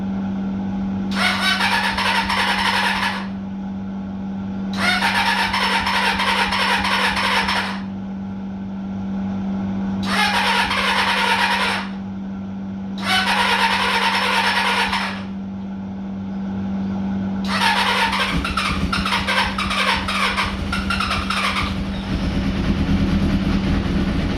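A scrap Kawasaki ZX4 motorcycle engine running just after its battery was hooked up, with a steady low idle hum broken by five loud, roughly regular surges of revving, each lasting a couple of seconds, close by and with no talk.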